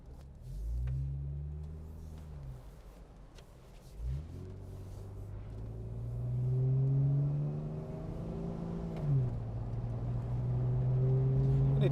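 A Jeep Wrangler Sahara, first registered in late 2018, accelerates with engine revs climbing in repeated rising sweeps that break at each gear change, a moderate, continuous drone heard from inside the cabin.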